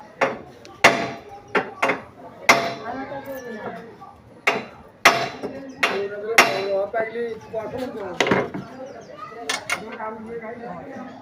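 Hammer blows tighten a loose, rattling steering neck set (head set) on a vehicle: about a dozen sharp, irregularly spaced metallic strikes ring out close and loud, with someone talking between and over them.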